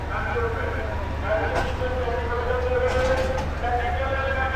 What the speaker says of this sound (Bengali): আর আমাদের এই ট্রেন হচ্ছে যমুনা এক্সপ্রেস